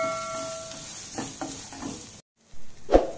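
Chopped onion stirred and sautéed in a pan for a quinoa recipe, heard as soft scraping stirs and a faint sizzle, then a short silence and one louder, closer stir at the end.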